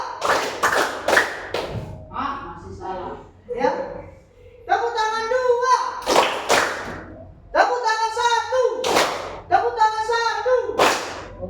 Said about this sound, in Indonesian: Tepuk tangan 5.